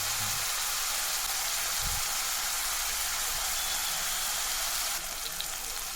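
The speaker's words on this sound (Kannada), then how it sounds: "ಅದರಲ್ಲಿ ಕಾಣಿಸ್ಬಾರ್ದು ಟೊಮೆಟೊ, ಆ ರೀತಿ ಫ್ರೈ ಮಾಡ್ಕೊಳ್ಬೇಕು" Tomatoes frying in a pan for dal fry give a steady, bright sizzle that holds evenly throughout at close range, with a couple of soft low knocks near the start.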